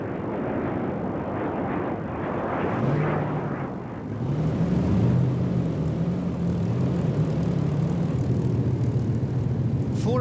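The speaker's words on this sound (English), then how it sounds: "A golden opportunity then to get 3 classic fighters in the air at once" Three classic propeller fighter planes, among them a Kittyhawk, fly over Australia with a steady droning engine hum and wind rush, growing louder and more tonal midway as they draw nearer and then holding a sustained throb.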